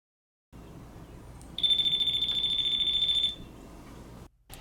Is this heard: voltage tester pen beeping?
yes